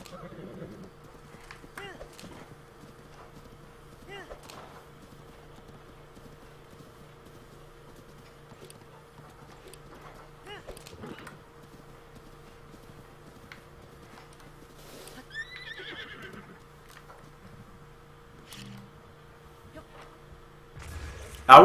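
A horse in The Legend of Zelda: Breath of the Wild on Wii U gives a short neigh midway through quiet in-game ambience, with soft hoof clatter and faint game tones running underneath.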